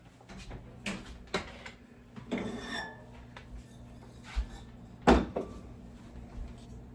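A metal pan of cinnamon rolls is set down on a warm stove with several separate clanks and knocks, the loudest a sharp clatter late on, against a quiet kitchen background.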